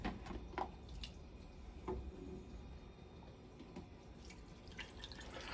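Elderberry juice trickles through a funnel strainer, faint irregular drips and small splashes over a quiet background hiss, no voices.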